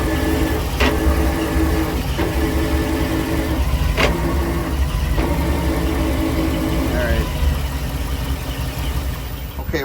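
A Velvet Drive 5000 Liberty series marine transmission from a 30-foot Sportcraft boat, with a worn bearing, runs noisily in gear: a loud, steady mechanical drone and whine with periodic knocks, close up, with a voice talking briefly underneath.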